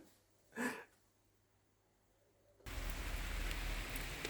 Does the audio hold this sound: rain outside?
yes